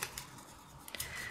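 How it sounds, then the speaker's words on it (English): Paper torn from book pages for a craft folio, a short dry ripping with a couple of quick tearing bursts, close and quiet. "I'm actually going to tear a piece of this paper."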